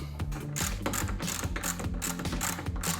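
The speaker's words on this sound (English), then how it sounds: "Get the nut put on and then we'll tighten it up." A ratchet wrench clicks rapidly and steadily as it tightens the nut on a Jeep Wrangler JL windshield wiper arm, a close, continuous mechanical ratcheting with no voices.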